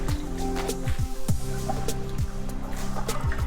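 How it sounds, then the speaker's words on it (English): A heavy, sodden knitted shawl being squeezed by hand, giving soft squishes and repeated drips and trickles of water falling away, close up with no talk. "we're gonna squeeze out, I should say, the excess water"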